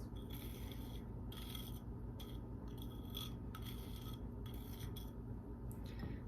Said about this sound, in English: then we will mix all of this together